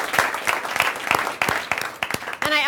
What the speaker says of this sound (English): Big round of applause for all of them.